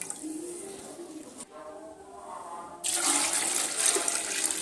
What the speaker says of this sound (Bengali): সেই নারকেলের দুধটা আমি এর মধ্যে দিয়ে দেব